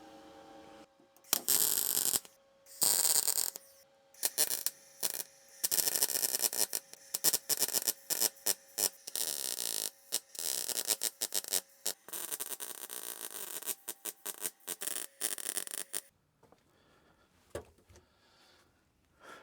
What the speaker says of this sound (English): All right, that didn't weld up too bad.